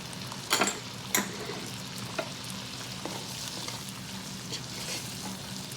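Snow peas sauté in a Power XL cooker, a soft, steady sizzle with a few sharp clicks of a utensil stirring them early on, fairly quiet and close.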